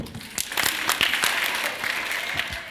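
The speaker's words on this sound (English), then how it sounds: "we do it with an organized hand clap" An audience at an awards ceremony claps in unison in a steady organized rhythm, sharp repeated hand claps over a murmur of crowd noise, moderately close.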